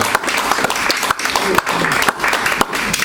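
A conference audience applauds after a talk, with dense, loud clapping sustained throughout, while voices can be heard beneath it.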